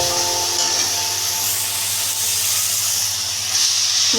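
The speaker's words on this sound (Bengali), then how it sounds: "দিয়ে দিচ্ছি এবারে আমি চিকেনটা" Chicken pieces hit a pan of ginger-garlic paste masala, producing a loud, continuous sizzling hiss that stays close and steady throughout, with no talking.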